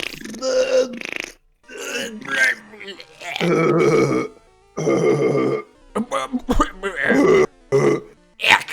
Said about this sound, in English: I'm gonna burp and fart together